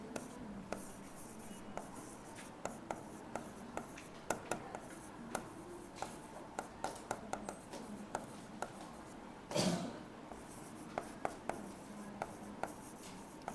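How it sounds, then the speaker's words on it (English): Steady pen or marker strokes scratch across a board as notes are written, a continuous run of short taps and scrapes heard close up, with one brief louder rub partway through. "So I'll write that."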